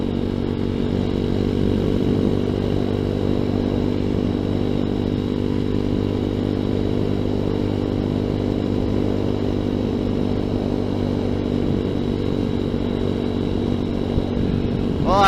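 A ZS190 Grom clone motorcycle is being ridden, its engine droning steadily and loudly up close for the whole stretch with harmonic hum and little change in revs; no one talks.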